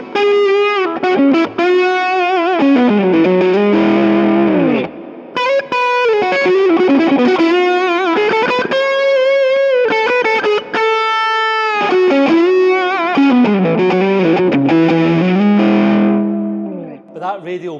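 A Martin acoustic guitar played through a pedalboard with plain distortion and reverb, sustained chords and melodic lines ringing loud and continuous, with a brief dip midway and a fade at the end.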